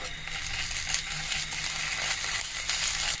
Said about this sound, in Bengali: ভাজবো, মানে হালকা কাঁচা ভাবটা যাতে চলে যায় সেই রকম